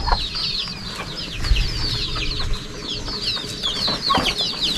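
Several chickens clucking and chattering repeatedly at a rural Lao village setting, busy overlapping calls close by, steady throughout with rustling and ground noise beneath.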